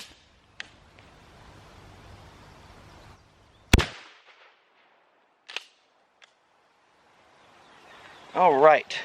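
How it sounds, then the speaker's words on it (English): A shotgun fires a Phoenix Rising LBC slug at water jugs outdoors, a single sharp loud blast standing out from near silence, followed by a few fainter pops and knocks and a burst of a voice at the end. "So let's try out the Phoenix Rising slug now."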